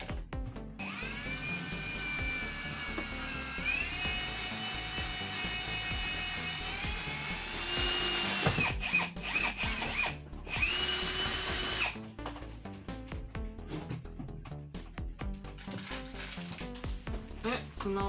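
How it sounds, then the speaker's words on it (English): A power drill bores a hole for mounting a lamp, with a loud, close whine that rises in pitch and holds steady for several seconds before breaking into uneven bursts and rattles, and some speech mixed in. "So now it's just to drill up the hole."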